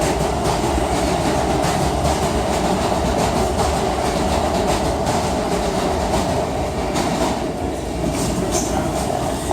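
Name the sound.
train station with passing train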